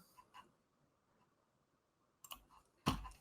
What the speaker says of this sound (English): I'm going to click on here